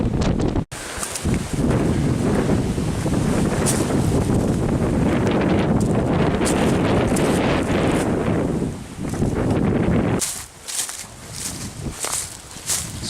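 Strong wind roaring across an exposed mountain ridge trail, loud buffeting gusts hitting the microphone continuously, easing briefly near the end before surging again.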